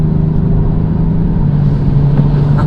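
A 2020 Genesis G70 accelerating hard in sport mode with paddle shifters on a wet road, giving a loud, steady engine drone that climbs gradually from inside the cabin.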